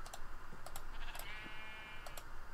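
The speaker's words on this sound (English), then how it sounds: "we have our annoying little sheep" A sheep in TerraFirmaCraft, a Minecraft mod, gives a short wavering bleat amid rapid clicking keyboard typing and mouse clicks, fairly quiet and close, with no speech.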